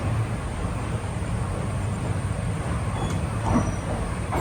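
Steady rolling rumble of a passenger train running the Palakkad to Nilambur Road line, a continuous broadband roar heard from on board with no voices.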